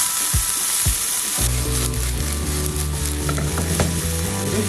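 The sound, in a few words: onions frying in a pan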